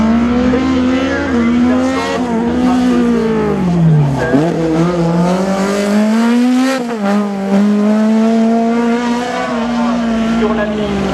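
A race car called the 426 at a slalom event roars past with a loud sustained engine note that dips and climbs as it changes gear and revs, with a brief tyre squeal midway and a voice talking faintly underneath.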